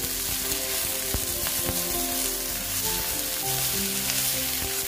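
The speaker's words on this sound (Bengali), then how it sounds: "নুন দিয়ে ঢেঁড়সটা ভেজে নেব।" Okra fries in a pan with salt, giving a dense, continuous close sizzle dotted with light crackles and occasional soft stirring knocks, with no voices.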